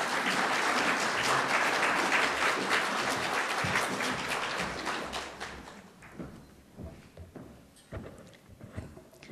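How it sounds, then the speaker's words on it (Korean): Congregation applause welcomes a pastor to the pulpit at a church service, a dense, loud burst of clapping that thins into scattered claps over the last few seconds. "환영과 축복의 박수로 우리 목사님 모시겠습니다."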